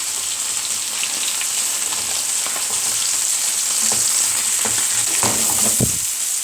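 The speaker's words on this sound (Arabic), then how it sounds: "وبعد ما السجق خد معايا اللون الذهبي الجميل اللي انت شايفاه ده، هنزل بمعلقه توم صغيره" Sausage and garlic fry in a pan with a steady, fairly loud sizzle, while intermittent scraping stir strokes grow more frequent toward the end.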